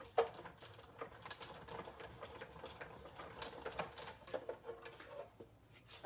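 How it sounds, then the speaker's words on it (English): A die cutting machine working through a small paper flag, with a quiet run of rapid ticks and light clicks that goes on steadily, plus a sharper knock at the start. "I'm going to die cut the little flag here."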